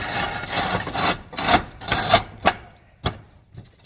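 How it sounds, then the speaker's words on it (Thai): Trimmed metal roofing sheet being laid back down over a rooftop solar panel mounting on a 5 kW on-grid system, giving a series of scraping, rubbing bursts followed by sharper knocks, close and without talk. "เสร็จแล้วแล้วก็จะนำแผ่นหลังคาที่เราตัดแต่งเจียวไว้นะครับลงมาปิดทับครับ"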